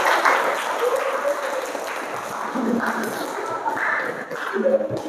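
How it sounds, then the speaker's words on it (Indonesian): Applause at the close of a counselling class session during teacher certification performance testing, a group clapping unevenly with some tapping and shuffling, mixed with faint voices and murmurs in the room. "Tepuk tangan untuk kita semuanya."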